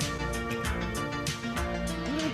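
An old synth track from the Transformers soundtrack plays as a dense wash of sustained tones with soft pulsing accents, fairly quiet and continuous.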